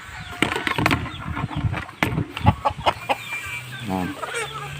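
Escaped chickens cluck and squawk in a lively, irregular series of close calls, with a brief flutter of wings and some people talking nearby.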